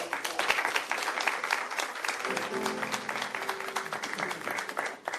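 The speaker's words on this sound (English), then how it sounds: "let's give our candidates a round of applause" Audience applause for candidates at a city council primary forum, sustained crisp clapping from a room of people, fairly close, with a faint tonal hum partway through.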